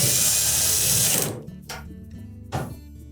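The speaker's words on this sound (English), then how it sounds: "we'll push the panel up against the support bracket and secure it with at least 1 screw" A powered screwdriver whirs steadily and close for about a second, driving a screw that fastens a Samsung dryer panel to its support bracket. Two light taps of handling follow in the quiet afterward.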